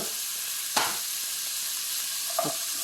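Steady frying hiss from chopped tomatoes in a hot pan, with two brief clatters of a spoon or lid.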